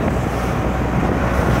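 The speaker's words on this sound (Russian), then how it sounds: "Ветер." Strong wind roaring and buffeting the microphone in a dense, continuous low rush, with no voices.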